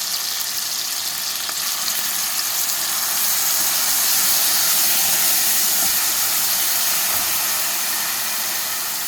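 Coarsely ground onion and ground masala frying in a pan for a fish dish, a loud, steady, hissing sizzle that stays close and unbroken, with no voices.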